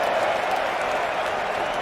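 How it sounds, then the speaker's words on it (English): Spectators at Lord's cricket ground cheering and applauding during an Australia versus England match, a steady, dense roar of crowd noise that holds at an even, fairly loud level throughout. "Again, a huge cheer from the Lord's crowd."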